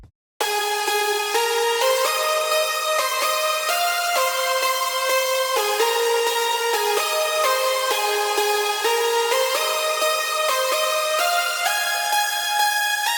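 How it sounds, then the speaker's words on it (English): Bright synth lead built from Synth1 and Nexus presets, layered with stereo widening, OTT compression, reverb, EQ and multiband processing, playing a steady melodic line of sustained stepwise notes, loud and continuous with no voices. "For the lead I just grab a preset and Synth 1 and Nexus from my sample pack."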